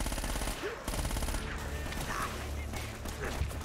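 Rapid gunfire in the Uncharted: Drake's Fortune game, with bursts of shots crowding the whole clip alongside dense game effects and a low rumble, with no talk over it.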